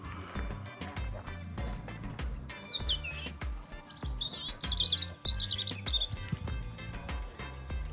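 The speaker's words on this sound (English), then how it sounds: "Plenty of birds." Small birds chirp and tweet in quick bursts near the Test riverside walk at Mottisfont Abbey, over steady rhythmic footsteps or hoof-like thuds.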